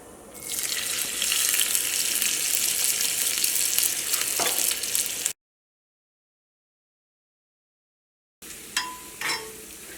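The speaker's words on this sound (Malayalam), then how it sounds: "ഇനി ചൂടായേക്കണ ഓയിലിലേക്ക് തേങ്ങക്കൊത്ത് ചേർക്കാം." Coconut pieces frying in hot oil with a steady, loud sizzle, then a brief silence and a few utensil clinks with quieter sizzling.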